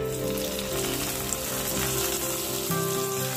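A hot tempering of cashews, raisins, black pepper and fennel seeds sizzles steadily as it is poured into a dish, a close, continuous crackling hiss with no talking.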